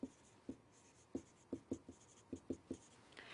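Pen or marker writing by hand, with a run of quiet, separate taps and short strokes in an uneven rhythm, close but faint, no talk.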